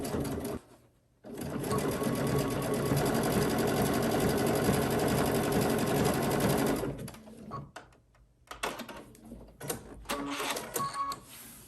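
A sewing machine stitches a decorative stitch onto quilt binding in contrasting thread, running in a fast, continuous mechanical whir for several seconds after a brief start, then stopping, followed by light clicks and handling.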